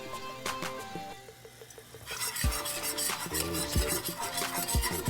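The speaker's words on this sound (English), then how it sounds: "we're just gonna keep whisking that together" A roux for brown gravy whisked in a pan over lowered heat: gentle sizzling under a quiet metallic ringing, then brisker whisking with clinks and knocks against the pan.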